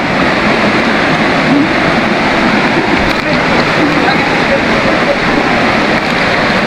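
Water from Kawa Kawa Falls pours and rushes in a loud, continuous broadband roar that stays close and unbroken throughout, with no pauses or changes in intensity.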